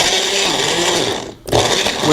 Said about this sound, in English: Screw on the 4-blade mixer top, and let's mix it up.